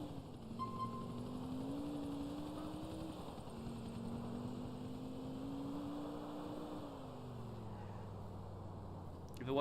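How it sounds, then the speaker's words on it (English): Helicopter rotor and engine drone in GTA 4 on PS3 online play, a steady throbbing whir with shifting pitch held throughout, fairly close, with voices talking over it. "Oh, somebody's got a helicopter."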